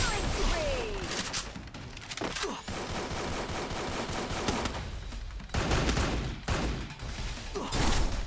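Rapid bursts of shotgun gunfire in the Free Fire video game, fired mid-jump, loud and dense across the whole stretch with brief gaps between volleys and a voice talking underneath.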